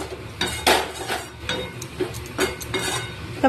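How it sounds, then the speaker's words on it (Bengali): Cabbage with small potatoes is stirred in a cooking pot, giving repeated scraping clanks of a utensil against the metal with a faint sizzle beneath, close and fairly loud, no talking. "ভালো করে শুধু নেড়ে চেড়ে কষিয়ে নিতে হবে"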